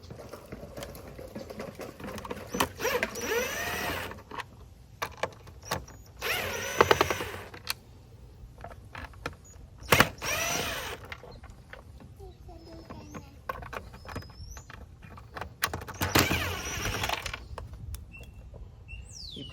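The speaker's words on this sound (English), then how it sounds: "Now, once you have it out, there are 4 screws, and we're gonna undo these 4 screws." Screws are worked loose from a Lexus ES350 side mirror assembly with small ratcheting whirs and clicks in short bursts, close and fairly quiet, with intermittent handling noise.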